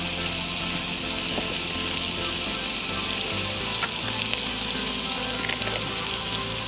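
Food fries in a pan over a campsite fire, a dense continuous sizzle and crackle with occasional small pops, close and steady with no talking.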